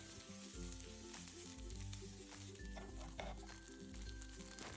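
Onion, green chilli and capsicum stir-fry in a pan for Nepali-style chilli chicken momo, making a loud, continuous sizzle with stirring scrapes and light clinks. A low musical backing plays underneath.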